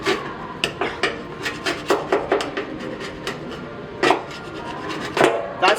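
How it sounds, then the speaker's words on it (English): A scraper rasps in short, rhythmic strokes across a vehicle surface, removing old double-sided tape; about a dozen close, scratchy scrapes with brief pauses between them and no speech. "I'm gonna just scrape it real quick."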